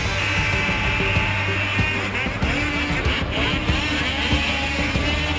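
Ski-Doo snowmobiles racing in a snocross qualifying round at Farmington, NY, with engines whining and droning loudly and continuously as the machines run close together.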